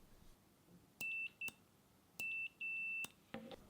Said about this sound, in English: The multimeter will only beep when the switch is pressed and the circuit is closed.